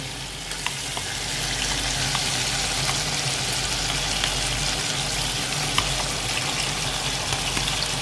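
Chicken masala with yogurt stirred in, sizzling steadily in a pot during biryani cooking: a close, continuous frying hiss with small crackles throughout and no talking.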